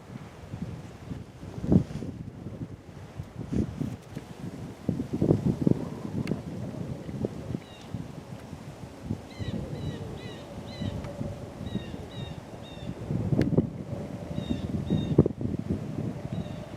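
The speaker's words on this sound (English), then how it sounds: "Wind is too much." Strong gusting wind buffets the microphone outdoors in brush during bow hunting season, a loud rumbling roar that rises and falls in bursts, with faint bird chirps scattered through.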